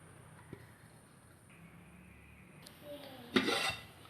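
Oil or butter being rubbed over metal idli plates: light scraping and smearing, quiet at first with a faint tap, then a louder burst of rubbing near the end.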